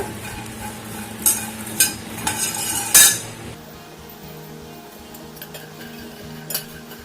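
Makhana (lotus seeds) being stirred with masala in a pan: several sharp clinks and scrapes of a spoon against metal early on, then a quieter stretch of soft rustling and one last faint knock.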